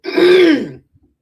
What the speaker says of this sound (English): I keep coughing. I ain't trying to cough.